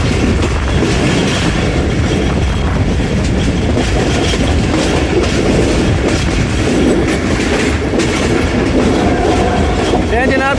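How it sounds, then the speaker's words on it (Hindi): The 14 Down Awam Express thunders through Gakhar Mandi station without stopping, a loud close roar with rapid clickety-clack of wheels and a brief squeal near the end. "गखड़ मंडी रेलवे स्टेशन को थ्रू पास कर रही है जी 14 डाउन अवाम एक्सप्रेस GU20"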